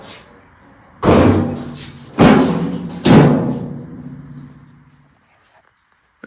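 Three loud metallic thuds ring out about a second apart as a car door is shifted and set aside in a workshop, each knock decaying with a resonant tail before quiet.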